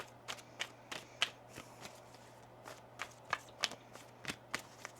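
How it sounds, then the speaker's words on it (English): A deck of tarot cards is shuffled close by, a series of crisp riffling snaps and soft slides spaced irregularly over several seconds, fairly quiet with no talk. "One more shuffle here."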